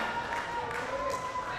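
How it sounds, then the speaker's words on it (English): A crowd at a pickleball team cup match claps and cheers steadily, a continuous wash of applause with a commentator talking over it. "We have a crowd cheering for the Wranglers."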